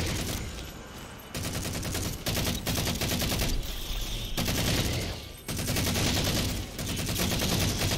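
Enemy gunfire in Halo 4: loud rapid bursts of automatic weapon fire crackle nearly nonstop, with brief gaps between volleys.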